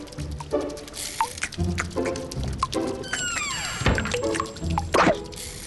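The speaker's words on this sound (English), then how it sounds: "I definitely hear something dripping in there." Water drips and squishes from a leaking sink in a cartoon-like scene, with wet splats and short drops scattered through, a rising whistle-like tone in the middle, and sound effects crowding the whole stretch.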